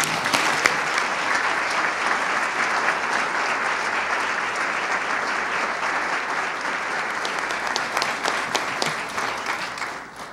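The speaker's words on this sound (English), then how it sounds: "Please join me for one more round of applause for Dr." An evening audience at a school district's MLK tribute event applauds for Dr. Hightower and her committee, a dense, sustained round of clapping from a full room that fades out at the end.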